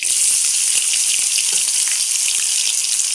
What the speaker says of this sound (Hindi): हमारा जीरा थोड़ा से चटक गया, इसमें डालेंगे हम अदरक, लहसुन, मिर्चा, प्याज